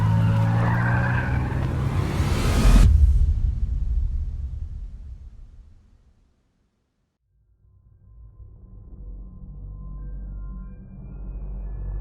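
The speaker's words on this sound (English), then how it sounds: "Throwing the car in drive, Jerry mashed the gas and sped out of the lot" A car peels out with a loud roar and screech of tires for about three seconds, then the engine noise quickly fades into the distance, leaving a low rumble.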